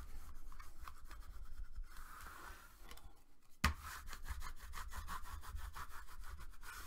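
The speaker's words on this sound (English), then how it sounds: "now let's go ahead and burnish that real well" Repeated rubbing strokes of a bone folder burnishing a paper crease for a loaded-envelope mini album, a steady close scraping rhythm with a brief sharp knock midway.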